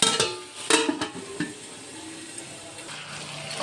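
Mutton curry with tomatoes stirred in a pot: a few clattering scrapes of a spoon against metal near the start, then a soft, steady sizzle and bubbling, with no talk.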